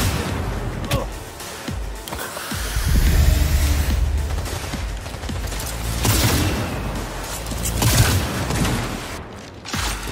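Gunfire in the video game Cyberpunk 2077, a dense, continuous stretch of shots and impacts with booming bursts layered over each other for about ten seconds.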